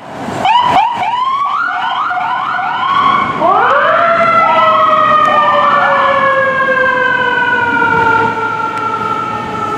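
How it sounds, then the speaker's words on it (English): A loud ambulance siren on an Austin, Texas street wails close by, its rising and falling tones sweeping repeatedly, then sliding lower in pitch as it moves past. "there goes an ambulance"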